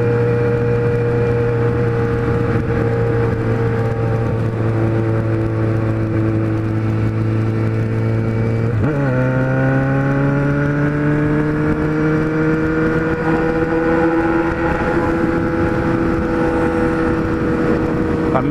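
A Kawasaki Z1000 motorcycle with a 4-into-1 exhaust drones loudly at steady engine speed, then suddenly revs higher and holds a raised, gradually climbing pitch, heard close and alone on the road.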